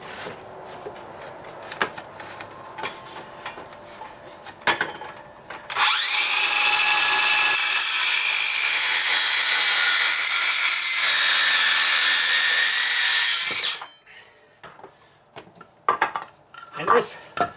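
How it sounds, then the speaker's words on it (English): A Bosch battery-powered saw cuts wood for a dry-rot deck column repair, its loud, steady whine holding for about eight seconds, framed by clattering handling noises of tools and wood before and after. "battery operated saw is working out okay. It's a Bosch"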